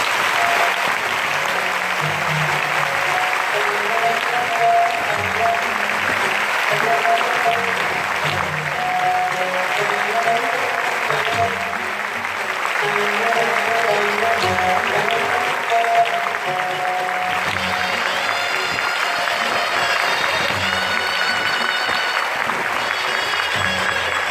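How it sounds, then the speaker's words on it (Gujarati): A large audience at a BAPS temple assembly at Shahibaug Mandir in Ahmedabad claps in a dense, steady roar of applause that stays loud and unbroken for over twenty seconds. "આપણે હવે તાળીઓથી ગુરુવારી વધાવીએ."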